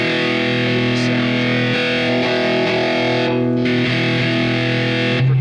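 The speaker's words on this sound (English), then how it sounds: "Now apparently they made a metal distortion too, which I'm not familiar with in the real world" Electric guitar played through the Amplitube Metal heavy distortion amp simulation, a loud, saturated sustained chord ringing out thick and buzzy with slight changes, no talking.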